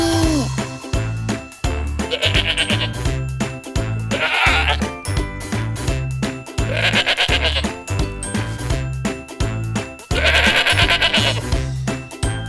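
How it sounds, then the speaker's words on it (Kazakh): Repeated goat bleats sound over a bouncy, jingling musical backing with a steady beat, each bleat loud and wavering. "Ешкі ме дейді."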